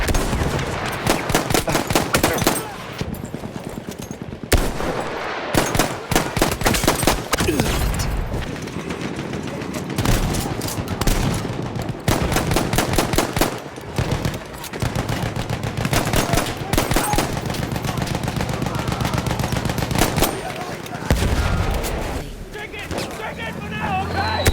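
Battlefield 1 gunfire, including the M1911 pistol, comes as dense, loud, rapid bursts of shots and booms that repeat through most of the stretch, with brief pauses and some game noise between volleys.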